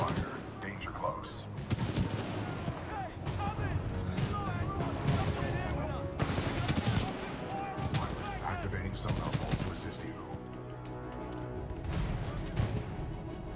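Supporting fire in the shooter Titanfall 2 rattles loudly in repeated automatic bursts and heavy impacts throughout, with a synthetic voice speaking over the combat.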